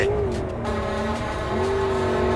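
A car driving in Cyberpunk 2077, its engine a steady droning hum with a faint pitch rise partway through, sounding continuously and fairly loud throughout with no talk.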